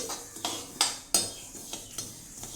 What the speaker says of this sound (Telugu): ఇలా దూరగా ఒక 5 నిమిషాల పాటు వేయించుకోవాలి